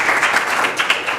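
An audience gives a student a brief round of applause at a school board business meeting, dense close clapping that fills the room for a moment.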